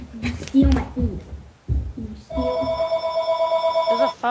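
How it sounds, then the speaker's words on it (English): A telephone rings during a Minecraft Hunger Games session with friends, a bright, steady electronic ring with repeating pulses that starts midway, right after a stretch of close voices talking. "There's a phone ringing."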